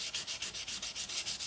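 Fine 600-grit paper is drawn lengthwise along the frets of a 1953 Les Paul Standard guitar in quick, even back-and-forth strokes, about ten in a second and a half. The scratchy rasping is soft, close and steady, with no talking.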